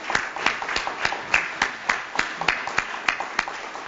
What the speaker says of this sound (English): I want you all to thank them with a great applause